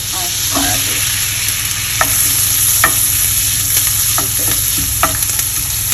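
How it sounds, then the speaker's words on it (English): Asparagus frying in a hot pan, a loud continuous close-up sizzle with occasional sharp ticks and spatters from stirring, and no voices. "And then we're just cooking that asparagus"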